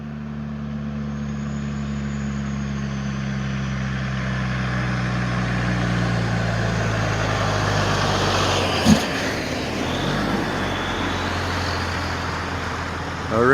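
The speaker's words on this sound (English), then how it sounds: "Watch the truck drive by." A truck rumbles past on a roadway, its low engine drone building steadily and peaking with a brief rattle midway before traffic noise carries on.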